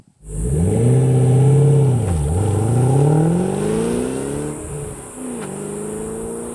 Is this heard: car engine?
yes